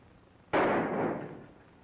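A single gunshot in a 1942 Western film, one sharp loud crack after a brief quiet that decays into a rolling echo over about a second.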